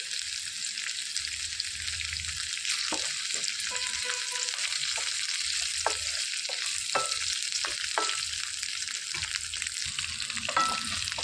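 Cumin seeds sizzle steadily in hot oil for a tamarind-leaf and coconut chutney, a continuous close frying hiss broken by a few soft stirring clicks, with no voices.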